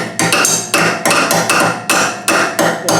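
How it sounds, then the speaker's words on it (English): Loud, close hammer blows ring out on metal in an uneven rhythm, about eight strikes, each leaving a brief metallic ring. "I'll hammer it down and we'll put a thread onto it later."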